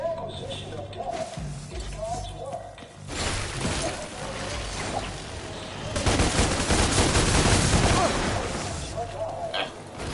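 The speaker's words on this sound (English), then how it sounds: "I started shooting too late." Gunfire in the game DmC Devil May Cry, bursts of rapid shots over a busy game soundscape, heaviest in the middle and late stretches, with mechanical clatter between volleys.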